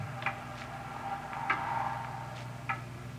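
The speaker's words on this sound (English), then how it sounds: "It's a loud clock" A loud clock ticks in a quiet room in an old radio drama, the ticks sparse and slightly uneven over a low steady hum, with no voices.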